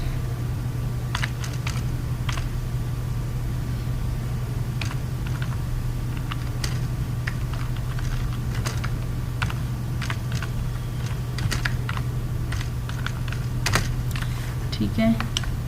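Someone types on a computer keyboard while entering data into a spreadsheet, making irregular light clicks with short pauses over a steady low electrical hum, with no talking.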